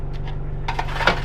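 Oven-baked chips tumble into a frying pan already holding vegetables and spice mix, a brief clattering scrape and rattle of pieces landing against the metal pan over a low steady hum, close and short.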